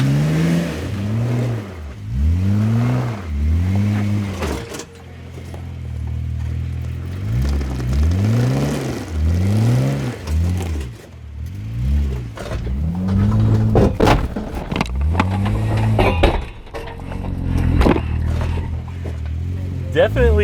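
A Jeep high-centered on rocks, resting on its skid plate, revs its engine again and again in rising and falling surges, loud and close, with short pauses between bursts.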